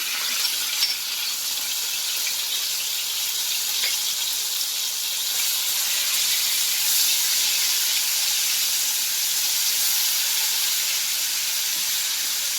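Garlic sizzles in hot ghee in a pan for a spinach dish, a steady close frying hiss that holds throughout with no talking.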